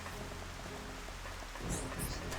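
Steady rain falling in the game Xenoblade Chronicles: Definitive Edition, a dense, even hiss that swells slightly louder near the end, with no voices.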